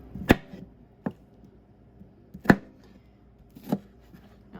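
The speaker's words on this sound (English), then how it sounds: "I will be chopping this one up in smaller pieces" Knife chopping tomatoes, including a yellow one, on a cutting board for a taco salad: four sharp, separate chops spaced unevenly, close and fairly crisp, with no talking over them.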